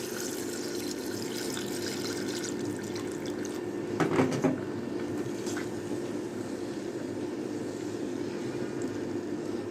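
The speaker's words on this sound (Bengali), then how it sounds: "2 কাপ লিকুইড তরল দুধ দিয়ে দিলাম আমি এখানে" Two cups of liquid milk pour into a pot over a medium flame, a steady liquid rush with a brief louder splash partway through, and no talking.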